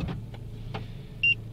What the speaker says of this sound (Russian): сигнализация закрыла центральный замок